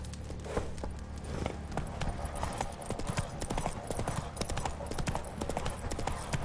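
Brisk, even hoofbeats of Roach trotting in The Witcher 3, close and steady throughout, with little else over them.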